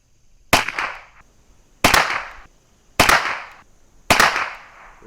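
Four sharp .22 LR rifle shots from Winchester SilverTip 37-grain hollow-point ammunition, fired outdoors at roughly one-second intervals, each a loud crack with a short decaying tail.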